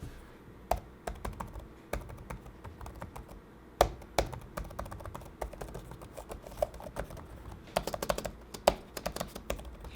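Rapid, irregular clicking of keys on the detachable keyboard of an ASUS ROG Flow Z13 laptop, with close, crisp taps of varying loudness over about ten seconds and no voices.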